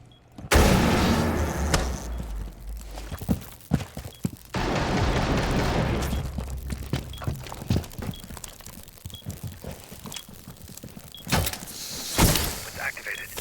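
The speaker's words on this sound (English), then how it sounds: "Tossing a EMP grenade." An EMP grenade is tossed and detonates in a video game: a sudden loud burst, then a sustained crackling electrical hiss with scattered clicks and thumps, followed by another sharp blast near the end.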